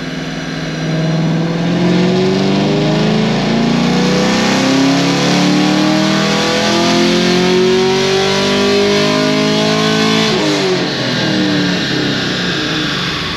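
Car engine with bolt-ons and a tune revving hard on a dyno pull, a loud sustained roar climbing steadily in pitch for about ten seconds before the throttle lifts and it winds down.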